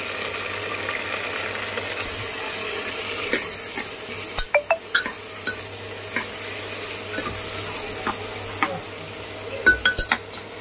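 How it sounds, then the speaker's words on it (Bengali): Onions and prawns fry in a pan with a steady sizzle, broken by sharp clatters of a utensil scraping and stirring, clustered in quick bursts toward the end. "আমি এতে পেঁয়াজ আর চিংড়ি মাছগুলো দিয়ে দিচ্ছি। দিয়ে এটাকে ভালো করে আমি ফ্রাই করে নেব।"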